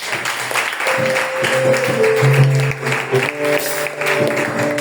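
Congregation applauding the Lord during a French-language church service, loud clapping mixed with sustained keyboard or organ chords and voices rising in the room.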